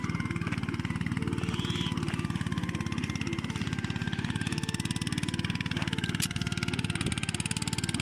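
A farm tractor engine runs steadily close by in a field of weed-choked brinjal, a continuous chugging drone holding an even level throughout with no clear revving.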